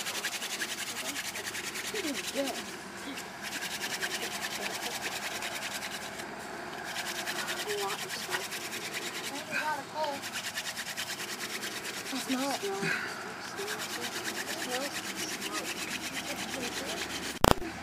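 Wood rubs against wood in a friction fire-starting attempt, a long, steady scraping grind that keeps an even back-and-forth rhythm, with brief pauses and a sharp click near the end.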